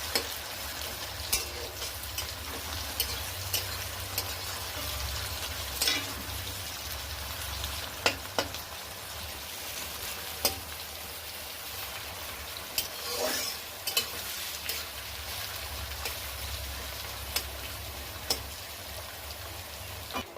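Chicken pieces being stir-fried in a pan until light brown for a Bangladeshi country-chicken curry, a steady hiss of frying with scattered scraping stirs and clicks throughout, no talk.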